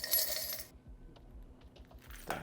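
A batch of metal keys jingling as they are handled, a bright clinking burst at the start followed by a few faint taps and a brief rattle near the end, close and fairly quiet.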